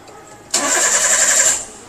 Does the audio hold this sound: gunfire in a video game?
no